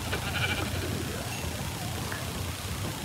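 A Minecraft sheep bleats a few times, nasal and wavering, set against busy game background noise.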